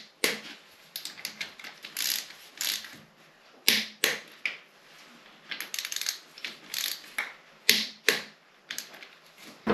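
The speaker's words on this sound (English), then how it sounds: "And torque them to the correct spec." Ratcheting clicks from a torque wrench tightening the oil drain plugs on a Triumph Rocket motorcycle, coming in quick bursts of close, crisp clicks with short pauses between strokes.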